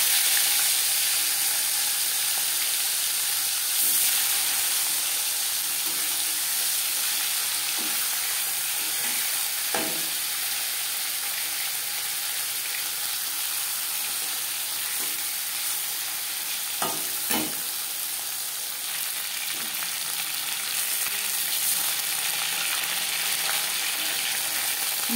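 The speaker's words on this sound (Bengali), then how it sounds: "চামচ তেল গরম করে নিয়েছি। এবার দিয়ে দেবো ম্যারিনেট করে রাখা মাছের মাথা।" A marinated aar fish head fries in hot oil with a loud, steady crackling sizzle that runs throughout, punctuated by a few scattered pops and faint clinks.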